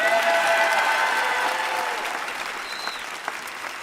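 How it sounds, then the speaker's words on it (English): An audience at a town hall breaks into loud, dense applause that starts strong and gradually thins out over several seconds, with a few whistles mixed in. "Let's give our Major a round of applause."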